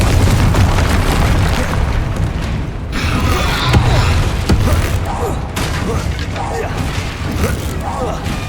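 Loud explosive spell blasts in the Hogwarts Legacy video game, booming bursts and crashes over dense continuous game sound, with a voice shouting spell names.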